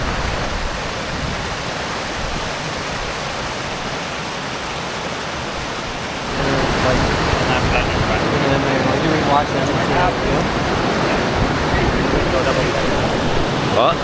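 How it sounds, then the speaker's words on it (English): Whitewater rapids at a steep drop on the Rivière Noire, a loud, broad continuous rush of churning water that swells noticeably stronger partway through and stays close and full, no voices. "You could definitely tell there was like a pretty significant drop here in the river."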